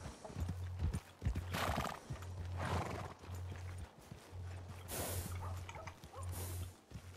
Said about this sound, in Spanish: Hay un caballo ahí atrás, un rienda.